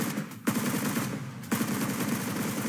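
Rapid automatic gunfire in the video game PUBG Mobile, a dense burst of shots with two sharper cracks standing out, loud and continuous without talk.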